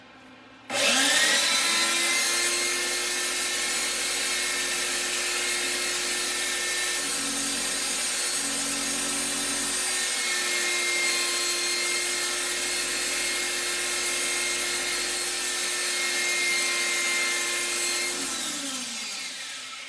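A coin ring is sanded while spinning on a powered tool, giving a loud, steady motor whine with a constant abrasive hiss that starts abruptly and runs nearly twenty seconds, easing slightly near the end.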